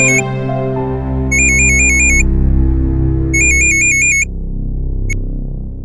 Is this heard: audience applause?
no